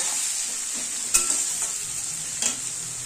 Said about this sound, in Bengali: এই পেঁয়াজগুলো এই তেলে দিয়ে দেবো। দিয়ে পেঁয়াজটাকে একটু ভাজা ভাজা করবো।